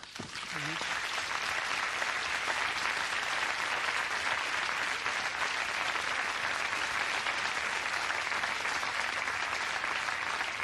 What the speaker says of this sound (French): j'ai envie de vous applaudir là